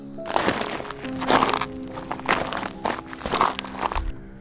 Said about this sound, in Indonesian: Terdengar langkah kaki yang diseret di kejauhan.